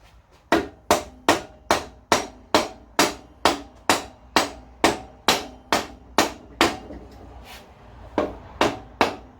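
Repeated sharp hammer taps drive the axle through the rear wheel of a Harley-Davidson Dyna Switchback motorcycle, about twenty evenly spaced, crisp knocks close by, with a short pause near the end.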